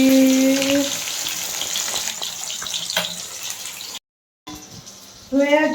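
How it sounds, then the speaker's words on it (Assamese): Fish fries in hot oil for a home-cooked dish with elephant apple, a steady crackling sizzle under a faint voice, then a brief dropout and someone speaking over the renewed frying. "এয়া হৈ আছে মাছ ভাজি"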